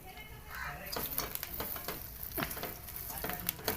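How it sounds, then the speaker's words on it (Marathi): Green chickpeas (harbhara) roasting in a pan and being stirred, a steady close sizzle and crackle with repeated scraping strokes throughout. "तर बघू शकताय आता हरभरे आपले भाजत आहेत मस्तपैकी छान."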